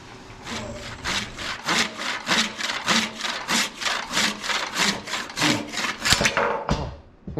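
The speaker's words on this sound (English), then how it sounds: "I'm going to cut the rest of it off with a handsaw." A handsaw cuts through a piece of Macacuba wood in quick, regular rasping strokes, about two per second, loud and close, ending as the piece comes free.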